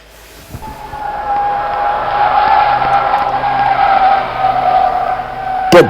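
A train's emergency brakes lock up, a long sustained metallic squeal skidding for several seconds with a rough rumbling underlayer, loud and near, ending in a sharp bang.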